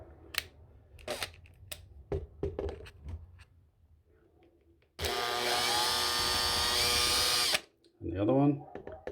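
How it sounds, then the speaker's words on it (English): An electric screwdriver whirs in one loud, steady burst of about three seconds while backing screws out of a bathroom light, fan and heater unit, with someone talking before and after. "This is an electrical screwdriver I've got."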